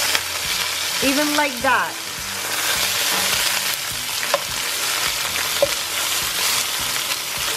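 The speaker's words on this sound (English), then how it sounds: "We need to sear it everywhere." Lamb shanks sear in a hot pan with a steady, close crackling sizzle, broken by a few clinks and scrapes as the meat is turned, while a voice briefly speaks over it.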